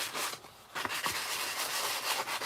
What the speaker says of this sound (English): and just sand lightly